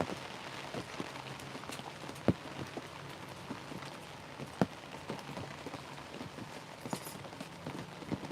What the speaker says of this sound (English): Can you hear that rain just pouring down?